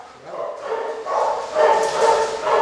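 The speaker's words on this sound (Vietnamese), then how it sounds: "giọng sủa lực quá." A large male Japanese Akita barks in deep, forceful bursts, several in a row, close and loud, with human voices mixed in around them.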